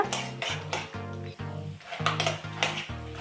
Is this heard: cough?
no